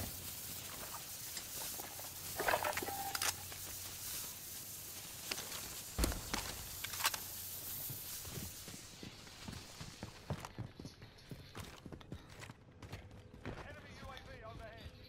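Footsteps in a fast-paced online video game, soft clip-clop patter of running steps scattered under ongoing voice chat among teammates, with occasional sharper impacts.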